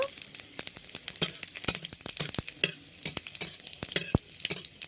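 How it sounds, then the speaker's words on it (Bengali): Panch phoron and dried red chillies frying in hot oil in a kadai, with crackling spice pops and sizzle punctuated by frequent close spatula clicks and scrapes against the metal. "এবার পাঁচ ফোড়ন আর শুকনো লঙ্কা যেটা রেখেছিলাম সেটা এর মধ্যে দিয়ে দেব"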